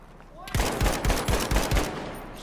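Automatic gunfire in Battlefield 5 team deathmatch: a loud, close burst of about five rapid booming shots in quick rhythm, followed by a lingering rumble.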